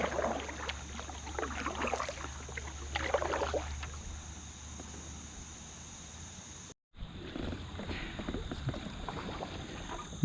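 Kayak paddling along the Rideau Canal, soft rhythmic water splashes and drips from the paddle against steady wind and a faint background hum, with a short break partway through.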